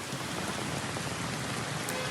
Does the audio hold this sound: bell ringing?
no